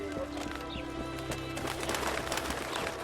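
Birds coo and call in The Witcher 2 under a steady hum of game ambience and music, with faint hoof-like clops in the background.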